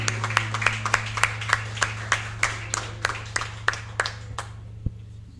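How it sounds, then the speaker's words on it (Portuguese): Church congregation clapping in praise during a Sunday service, a steady rhythmic applause of many hands over a low hum, fading out toward the end. "Ele é digno do seu aplauso."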